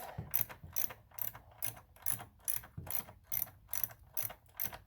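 A ratchet tightening a spark plug on a 2006 PT Cruiser, clicking in about a dozen regular, close strokes with brief pauses between them.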